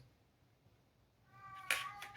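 A kitten meows twice near the end, close and fairly loud, the calls rising out of a quiet indoor room.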